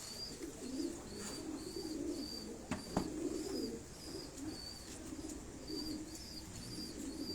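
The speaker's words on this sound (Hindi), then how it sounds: "कबूतर ये आपको दिखाए जा रहे हैं।" Pigeons coo softly in a repeating rhythm at a fancier's loft in Abbottabad, faint under a light background hiss, with an occasional flutter or knock.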